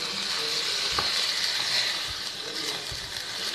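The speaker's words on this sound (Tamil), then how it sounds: "இதை அப்படியே வறுக்கணும்." Cooked rice frying in a pan for biryani, giving a continuous soft hiss with a few faint knocks, close and steady, without speech.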